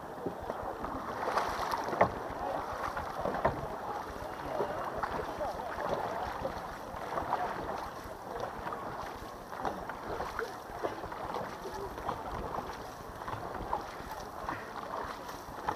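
Racing boat crew paddling on open water after recovering from a capsize, steady broadband splashing and water rush with wind buffeting the microphone, continuous and fairly close, with shouted crew commands mixed in.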